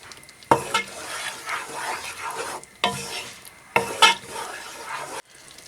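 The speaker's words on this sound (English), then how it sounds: "Mix the garam masala" Rajma simmering in a pan as garam masala is stirred through, with a sizzling, bubbling wash broken by three sharp scraping bursts of the spoon against the pan, close and steady.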